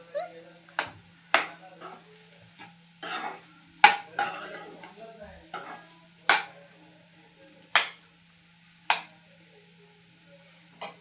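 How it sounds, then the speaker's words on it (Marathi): Potato bhaji is stirred in a pan, a series of sharp scrapes and clanks spaced a second or so apart over a quiet background, with a few soft voice sounds between them. "तर आपल्याला आता याला छान प्रकारे असं हलवून घ्यायचं आहे, म्हणजे मिक्स करून घ्यायचं आहे."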